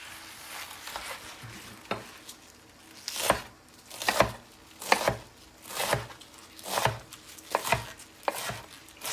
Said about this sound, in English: I'm going to chop this really roughly